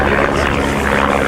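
A de Havilland Chipmunk aircraft's engine roars loud and close at an airshow, a sustained dense drone with no talk.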